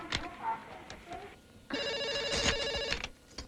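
A telephone rings while calling Meenakshi, a bright repeated trill close by, preceded by a brief stretch of voices and handling noise.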